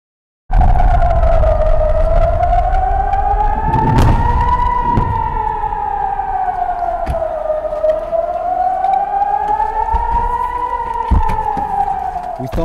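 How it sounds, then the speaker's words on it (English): A loud wailing siren in Israel during rocket attacks rises and falls in slow, repeating sweeps, close and sustained, with some faint background clatter underneath. "we heard the sirens once again"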